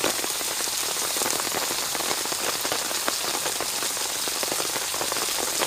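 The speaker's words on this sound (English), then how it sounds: "Hope it sounds alright with all this rain." Heavy rain pours steadily, a dense hiss of drops drumming on surfaces with scattered sharper taps, loud and continuous throughout.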